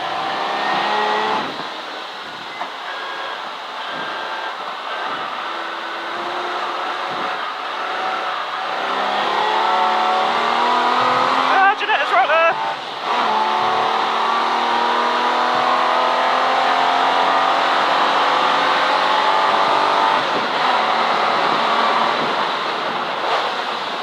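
A V12 engine howls as the car races around Silverstone circuit during a CSCC Modern & Future Classics race, loud and sustained with rising and falling revs through gear changes, a brief lift-off around the middle, wind rush throughout.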